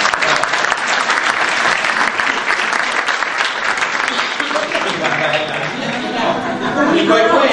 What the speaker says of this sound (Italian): fatene un applauso.